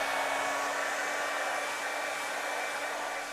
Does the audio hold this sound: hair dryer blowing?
yes